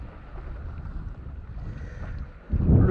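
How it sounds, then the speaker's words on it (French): Wind picks up on a boat, a low, rough buffeting rumble that swells into a stronger gust at the very end. "Le vent commence à monter un petit peu"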